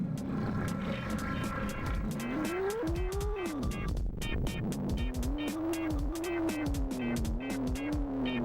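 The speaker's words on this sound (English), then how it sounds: "There's also a cat that moves around." A cat in an Atari Jaguar video game meows in drawn-out, rising and falling wails over constant game sounds and clicking effects, loud and close.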